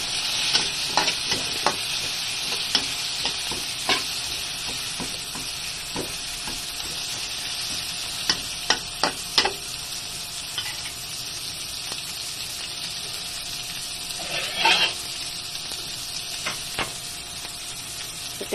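Garlic and ginger sizzle steadily in a hot pan while being sautéed to golden brown, with frequent scraping and stirring taps from a utensil over a continuous frying hiss.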